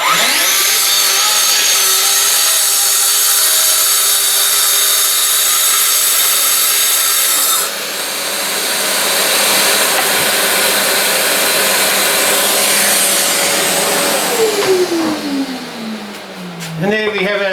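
Power saw cutting a wooden board for a small office workbench, a loud sustained whine for about seven seconds, then continuing under a voice before spinning down at the end.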